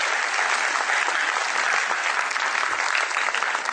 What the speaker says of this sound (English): please share this applause with the children who are on leave today